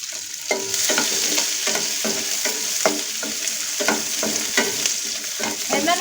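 Chopped onions frying with toasted spices in a pan over a medium flame, a steady close sizzle broken by repeated scraping strokes of a stirring spoon, with no voices.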